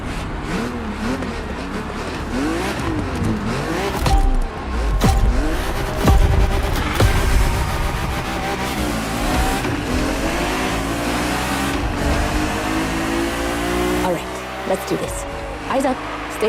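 Classic BMW M race car in The Crew Motorfest video game, the first car to wear the M stripes, its engine revving and rising through gears in sweeping pitch climbs, loud and close, with a voice talking over it.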